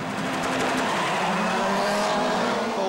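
Rallycross race cars launch together from a restarted start at a European Rallycross final in Hungary, engines screaming at high revs with tire squeal, a dense loud wall of sound throughout.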